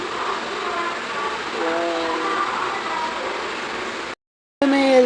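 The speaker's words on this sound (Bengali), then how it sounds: "মুম্বাই যাচ্ছে মুম্বাই মেল মুম্বাই মেল বর্তমান থেকে ছেড়ে চলে গেল" The Howrah-Mumbai Mail train pulls out of the station with a steady rolling rumble of railcars and a faint horn-like tone, heard nearby over a continuous station din before a brief cut.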